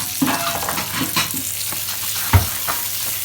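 Monkfish liver frying in a little olive oil in a pan, giving a low steady sizzle with a few soft stirring scrapes and one sharper clack near the end, with no talk.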